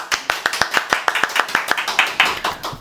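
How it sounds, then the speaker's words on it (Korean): Hands clap in a quick, even burst of about a dozen sharp claps, close and loud, welcoming a guest in an indoor studio setting. "박수!"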